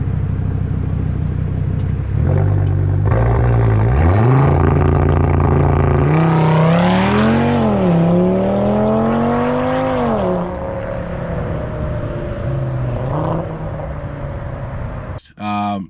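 A 2019 Audi RS5 engine rumbles and rises in pitch as the car accelerates hard through gear changes, loud and close from inside the cabin, then settles to a lower drone.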